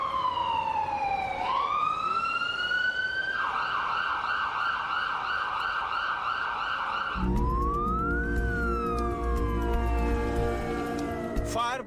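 Emergency vehicle sirens wail in Kyiv after a missile attack, with fire engines and ambulances responding; a rising-falling tone sweeps and pulses loudly, then a second siren with a deep engine rumble takes over, continuous and close.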